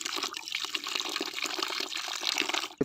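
Water gushes steadily from a water tank at a Tent City, a continuous loud splashing flow up close.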